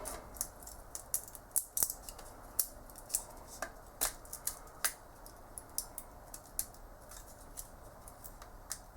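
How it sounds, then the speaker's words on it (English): Leftover support material being peeled off a 3D-printed PLA part, giving a string of sharp, close plastic clicks and snaps at irregular intervals over faint scraping, with no talk. "Should be also fairly easy to just peel it off like this."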